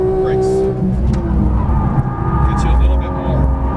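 A Porsche 911 GT3 of the 991 generation at speed on the Exotics Racing track in Las Vegas, its engine droning loud and close as it slows hard, with a person talking over it throughout.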